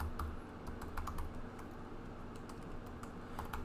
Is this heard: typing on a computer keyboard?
yes